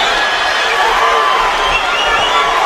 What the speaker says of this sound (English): Crowd wakes up just a little bit as Beltran manages to threaten Crawford a couple of times in the center of the ring